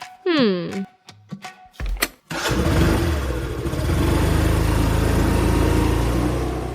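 A scooter engine starts up after a few brief voice sounds, then runs loud and steady close by for several seconds.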